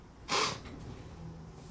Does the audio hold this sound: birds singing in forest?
no